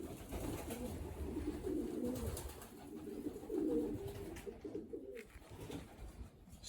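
Racing pigeons inside a pigeon loft give soft, low, repeated cooing calls, fairly close and layered over a light background hiss.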